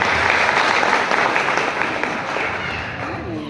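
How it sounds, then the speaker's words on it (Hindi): An audience gives a sustained burst of strong applause, dense and even throughout, tapering slightly toward the end with faint voices mixed in. "एक बार मैडम के लिए जोरदार ताली"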